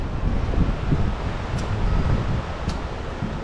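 An outdoor waterfall pours with a constant broad rumbling roar, heard at a distance and mixed with wind buffeting the microphone.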